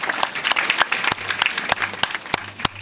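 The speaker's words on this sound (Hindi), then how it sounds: "जोरदार तालियां होंगे" Audience applause at a Constitution Day celebration ceremony in Delhi, a steady mid-level patter of many hands with a few sharper claps standing out, sustained through the whole stretch.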